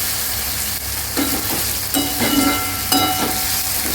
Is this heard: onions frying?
yes